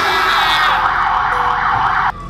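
Video game ambulance siren wailing loudly and close, its tone sweeping up and down in a steady cycle before cutting off abruptly near the end.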